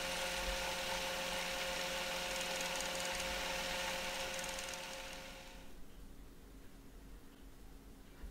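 Small drill boring a cable hole through a brass part for a W.R. Smith grasshopper clock, a steady loud high-pitched whine running continuously for about five seconds before cutting off to quiet room tone.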